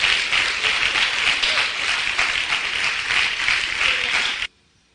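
A church congregation at an IPDA service in Venezuela breaks into dense, steady applause, loud and continuous with slight pulsing, then cuts off abruptly near the end.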